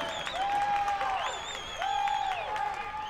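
Vocal crowd noise at a 2014 TAPPS high school girls' soccer state final during overtime, Ursuline against Bishop Lynch: a steady roar of cheering and clapping, with long whistle-like tones held over it and commentary voices mixed in.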